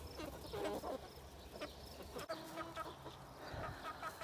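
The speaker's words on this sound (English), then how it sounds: "Hey, chickens." Chickens cluck and murmur nearby in soft, scattered bursts, with a low background rumble.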